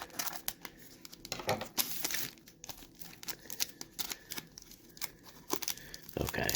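A 1993 Topps football card pack being torn and handled, with close, irregular bursts of crinkling and ripping wrapper over a quiet background.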